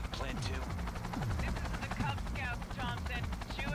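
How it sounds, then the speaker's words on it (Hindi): Machine-gun fire in the video game Cyberpunk 2077, with rapid bursts of sharp shots rattling in quick succession over a busy game soundscape. "machine gun"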